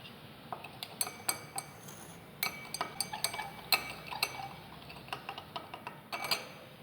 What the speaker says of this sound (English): Do the stirring by using glass rod.